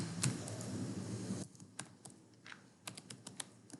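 Rapid keystrokes on a computer keyboard while Python code is typed, a steady run of quick, close, fairly quiet clicks, busier at first and then more scattered.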